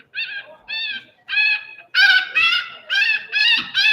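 An electronic predator call plays a nuthatch distress sound: a run of nasal, honking bird notes repeated in a steady rhythm, loud and clear, growing stronger and quicker partway through.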